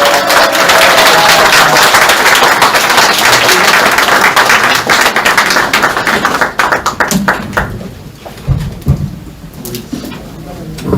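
An audience at a party chapter chairman's inauguration ceremony claps loudly and steadily, then the applause thins into scattered individual claps and fades out toward the end.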